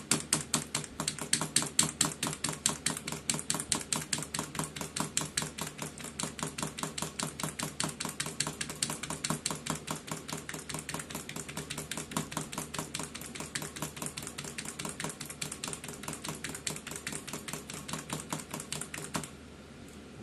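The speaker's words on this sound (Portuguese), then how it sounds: "Teclado PS2." Fast, continuous typing on a PS/2 computer keyboard: dense, even key clicks close up for nearly twenty seconds, then an abrupt stop into quiet.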